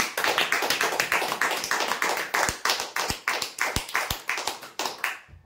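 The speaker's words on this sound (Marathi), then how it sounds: "त्यांच्यासाठी एकदा टाळ्या होऊ द्या बरं" Applause at a weekly prize draw event, with a crowd clapping steadily and continuously, several louder individual claps standing out near the end, no talking over it.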